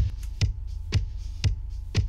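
Drums in a mix with only the clipper soloed and adding distortion, four evenly spaced punchy hits over a low throbbing hum, each with a sharp crunchy attack.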